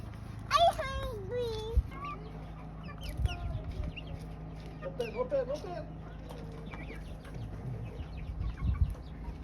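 White chickens cluck and call in a busy farm yard, several birds close by with scattered bursts over steady background noise and some distant voices.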